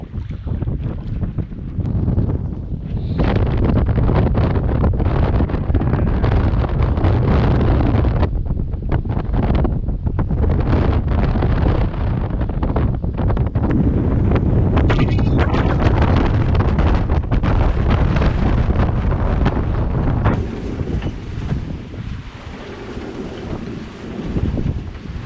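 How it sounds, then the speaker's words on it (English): Strong wind roars steadily into the microphone in heavy, buffeting gusts over rushing water aboard a sailboat, loud and continuous before easing slightly near the end. "but these gusts are still too fierce"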